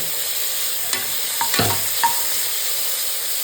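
Onion, green chili and tomato sautéing in a pan for tiffin sambar, a strong continuous sizzle broken by a few brief scraping strokes of the spoon, close and loud, with no talking.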